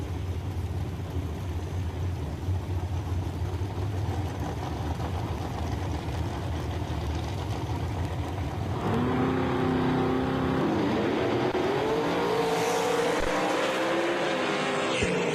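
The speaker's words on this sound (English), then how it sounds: "Jake Swagger, 533 in the big body Pontiac GTO." A drag race car, a big-body Pontiac GTO, rumbles loudly at a Woodburn, Oregon dragstrip, then launches with rising engine revs and a whining climb in pitch.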